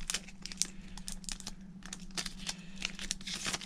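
A Digimon card game Classic Collection booster pack is torn open: close, busy foil crinkling and ripping in quick irregular bursts.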